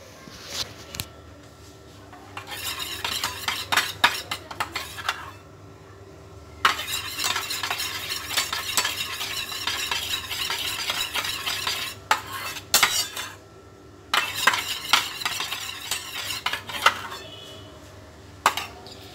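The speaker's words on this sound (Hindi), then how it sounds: "अभी मैंने यहाँ पे दो टेबल स्पून दही लिया है इसे हमें अच्छे से फेंट लेना है" Curd being whisked with a spoon, producing bursts of rapid, close clinking and scraping against the bowl, separated by short pauses, with no talk.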